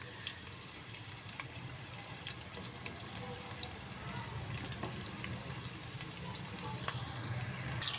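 Finely chopped onions sizzle steadily in hot ghee for a Pakistani dhaba-style mash dal tadka, a continuous crackling fry with faint scattered pops and no talk over it.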